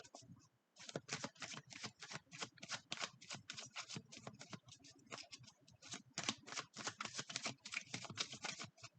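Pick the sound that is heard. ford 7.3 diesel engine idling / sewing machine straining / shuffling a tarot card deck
shuffling a tarot card deck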